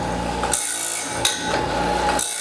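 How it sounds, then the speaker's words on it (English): An automatic sharpener wheel on a sawmill blade grinds the face of each tooth, a harsh rasping grind with sharp bright strikes repeating roughly every 0.7 seconds, close and loud. "you got the sharpener wheel that is coming down. It is grinding what I call the face of the tooth"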